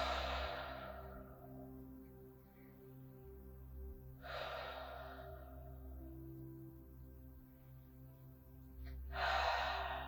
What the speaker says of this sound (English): take a few breaths nice and deep in your belly